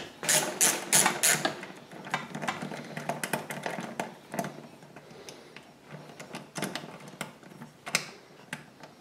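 A ratchet unscrews 6 mm nuts from a Honda EU7000iS generator, starting with quick, close bursts of clicking and then settling into scattered ticks and light metallic rattles.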